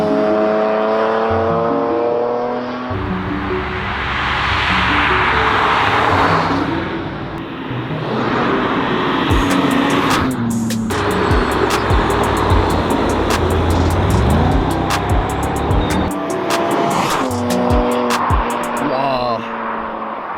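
A V8 engine from an Audi S5 versus BMW M3 comparison revs hard and continuously for about twenty seconds, loud and close, with rising and falling pitch sweeps and brief tire squeal.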